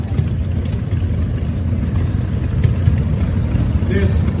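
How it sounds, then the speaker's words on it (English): A 1929 Case L tractor, the largest Case model of its time, runs at a steady, close, loud low rumble with no pauses, heard at a tractor show. "This tractor is a 1929 L case. It was the largest in the case tractor."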